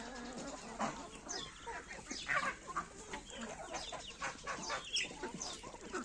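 Turkey calls and soft clucking continue throughout, with overlapping chirps and gobbling-like notes from a young turkey and nearby birds over faint farmyard background.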